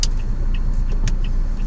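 A car backs up slowly during a driving road test, heard from inside as a steady low engine and road hum with a few faint clicks and ticks over it.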